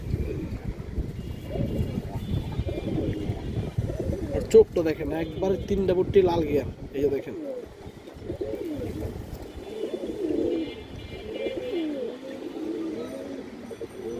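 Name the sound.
pigeon cooing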